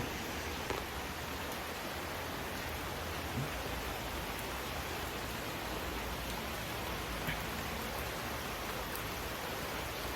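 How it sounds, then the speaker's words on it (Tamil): Steady morning rain falls in Jaffna, a continuous even hiss with faint scattered drops, unbroken for the whole stretch and with no voices. "யாழ்ப்பாணம் மழை பெய்து ஒன்று இருக்குது."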